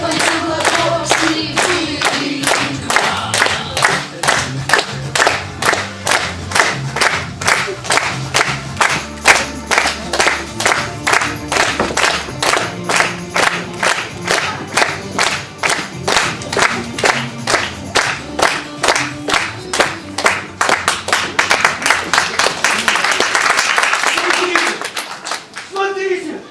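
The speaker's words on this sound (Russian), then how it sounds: "хлопайте в ладоши" An audience at a puppet theatre skit claps in rhythmic unison, a long run of sharp, evenly spaced claps that speeds up near the end, mixed with crowd voices and shouting.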